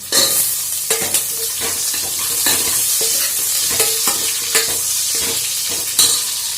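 Potatoes fry and sizzle in a pan while a spoon stirs them, with steady close sizzling and repeated sharp scraping stirs throughout, and no talk.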